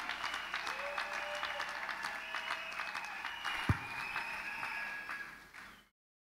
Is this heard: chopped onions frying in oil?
no